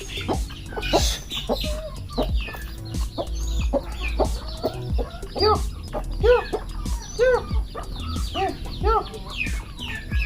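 Turkeys cluck near and loud in a repeated series of short, sharp calls, with a few longer warbling notes among them and a voice talking at times.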